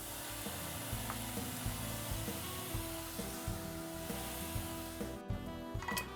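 Chopped tomatoes hit a hot frying pan with zucchini for calabacitas, giving a steady, fairly quiet sizzle with faint clinks throughout.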